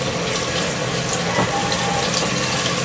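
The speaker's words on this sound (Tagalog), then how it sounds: "Lagyan natin ng kunting tubig para lumambot." Water pours into a pot of native chicken adobo, a steady close splashing pour that runs unbroken the whole time with no talk over it.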